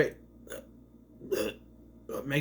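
Burps in a televised wrestling burping contest, several short guttural bursts separated by pauses, fairly close and loud.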